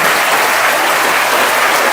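Children in a school assembly clap loudly and densely, a continuous close roar of applause with no pauses.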